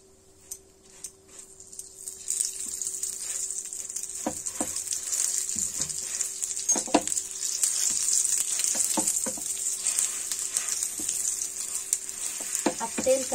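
A flipped cauliflower paratha frying in ghee on a hot pan gives a steady, close sizzle that swells after a couple of seconds, with occasional soft scrapes and taps of a spatula and no talking.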